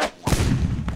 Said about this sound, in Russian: мне не очень нравится выстрел из пистолета